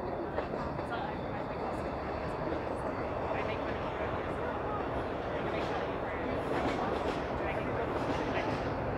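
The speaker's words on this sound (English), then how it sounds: "So that was an eastbound train diving into the tunnel towards Dundas West Station." Eastbound Toronto subway train diving into the tunnel toward Dundas West Station near Keele Street, heard as a sustained roaring rumble throughout, moderately loud outdoors, with occasional faint high chirps.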